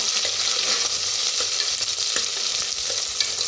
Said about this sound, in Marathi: कोथांबीर बी भाजून घेऊया कांद्याबरोबर